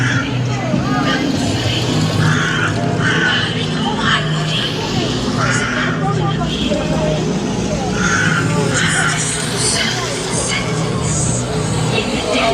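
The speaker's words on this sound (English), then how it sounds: "Oh, here's a crow." Crow cawing near a theme park crowd at a Halloween fright night event, a few short caws breaking out over steady crowd babble, distant rides and ambient noise.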